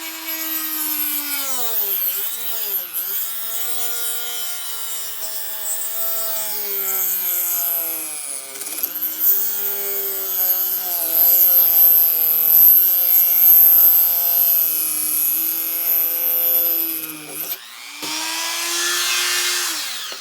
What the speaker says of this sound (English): So I'm going to just turn it on and come this way with my cut.